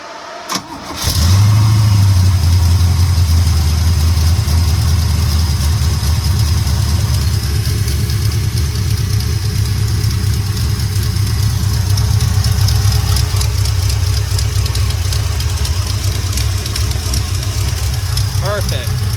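A 1986 Chevy square body pickup truck engine cranks briefly, catches and settles into a loud, steady idle close by, with people talking over the running engine.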